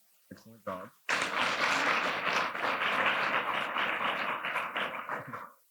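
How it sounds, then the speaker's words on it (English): An audience at an academic symposium breaks into loud, sustained applause for the panelists after a few brief spoken words, the clapping filling the room for several seconds before fading. "get a round of applause for my panelists along up here with me"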